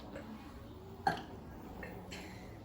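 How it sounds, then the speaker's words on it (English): A single short belch from a man cuts sharply through a quiet family room, with faint talk before and after it. "You won't be able to rest because I'm belching."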